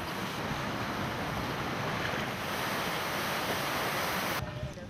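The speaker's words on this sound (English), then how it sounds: "the waves still crash against the limestone rocks like clockwork, creating a perfect scene of foaming emerald waves" Waves crash against limestone rocks on the Pangasinan coast, a steady broad roar of surf and foam with wind buffeting the microphone, continuous and loud throughout.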